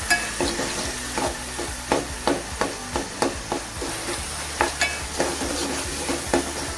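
Turmeric roasts in hot oil in a pan for a Maharashtrian vegetable dish, a steady sizzle broken by regular scraping strokes of a spoon stirring close up, with no talking.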